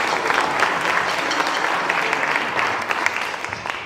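Listeners at a swing jazz show give a hand to visiting high school students: a continuous, fairly loud wash of clapping from a crowded room, steady and unbroken.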